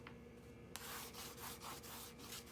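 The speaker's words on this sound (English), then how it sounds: "We're going to come back and burnish." Close, soft rubbing as a paper pocket page is burnished down in an 8 x 8 mini album, a steady scratchy friction sound after a brief tap, faint and without talk.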